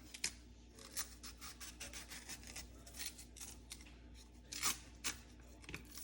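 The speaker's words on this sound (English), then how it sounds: "you take the knife and you cut right on the line" A knife slicing along the ridges of a green plantain peel, giving a run of short, crisp cutting and scraping strokes up close, with a few louder tearing pulls near the end.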